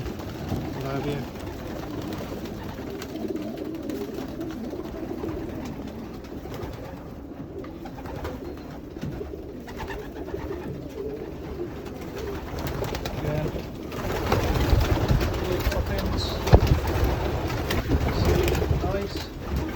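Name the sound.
young racing pigeons cooing in a loft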